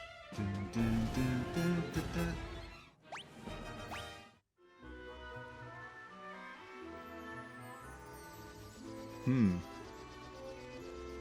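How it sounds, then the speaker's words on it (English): An airship sound effect from the Final Fantasy II video game: a brief whooshing sweep that breaks into the steady chiptune-style game music, which then carries on alone. "That's the sound of an airship."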